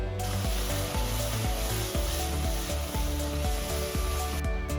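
Ginger garlic paste hits a pan of frying onions for a spicy lamb chop curry, giving a loud steady sizzle with rhythmic stirring scrapes throughout.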